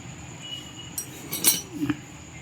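Cutlery clinking against a kadai (wok) while someone eats from it, a few light metallic taps and scrapes spread across a quiet background, with one brighter clink in the middle.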